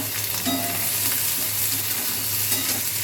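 Onion, green chilli and tomato sizzle in a pan with crushed garlic, frying in a steady, close crackle with occasional stirring.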